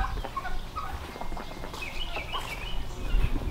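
Farm ducks call in a busy cluster of nasal quacks and chatter, close by and moderately loud, over outdoor background noise with no talk.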